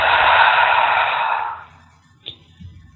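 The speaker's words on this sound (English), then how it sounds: "so it's going to go inhale through the nose, holding it, and then exhale out the mouth" A forceful exhale through the mouth during a relaxation breathing exercise, a strong airy whoosh lasting about a second and a half that fades out, followed by near silence and a small click.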